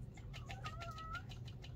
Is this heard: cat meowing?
yes